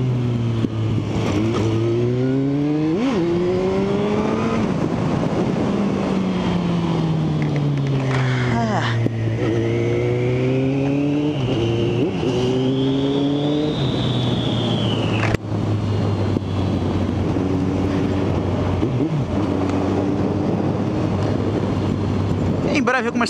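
A motorcycle engine revs up and down repeatedly, its pitch rising and falling in waves over a steady loud drone, close to the listener, with no one talking over it.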